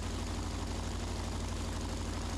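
Steady low drone of a Waco UPF-7 biplane's radial engine running up during a magneto check, close and even throughout with no talk.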